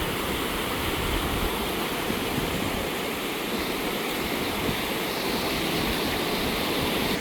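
Floodwater after a cyclone rushes under the Vattuvakal bridge, a dense, steady roar of turbulent water that fills the scene without pause and with no voices over it.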